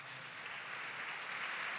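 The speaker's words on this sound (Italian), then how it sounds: "Li salutiamo con un applauso" An audience at a dialogue event on Europe and the world applauds, a faint, even, continuous patter of many hands with no voices over it.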